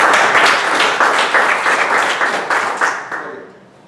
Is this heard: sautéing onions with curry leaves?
no